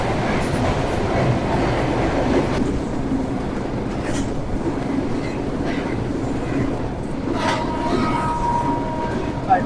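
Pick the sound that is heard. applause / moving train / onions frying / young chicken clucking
moving train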